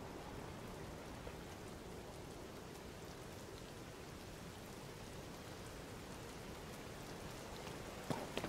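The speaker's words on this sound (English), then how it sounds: "now it's raining" Steady, even video game rainfall in The Legend of Zelda: Tears of the Kingdom hisses continuously, a dense patter of drops with no talking, ending with a couple of faint clicks.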